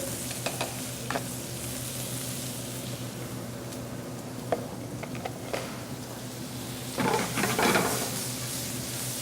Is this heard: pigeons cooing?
no